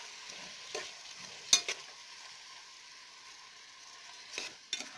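Canned tomatoes and onion frying in a pan, a quiet, soft sizzle under a few sharp stirring clicks and scrapes, with no one speaking.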